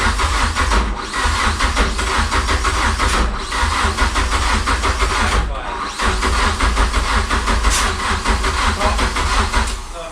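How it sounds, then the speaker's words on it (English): A Ford Sierra Sapphire engine starting and running loud and close, revved with the throttle in a continuous rough roar with brief dips, voices faintly beneath. "Give it some throttle."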